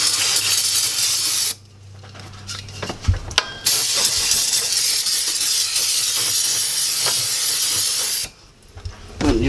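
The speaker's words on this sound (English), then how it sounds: "we're going to dry them up real quick with some brake clean" Brake cleaner sprays in long, loud hissing bursts onto engine surfaces of a 1999-2013 Chevy truck during a water pump replacement, with brief pauses between blasts and clicks as the nozzle is pressed and released.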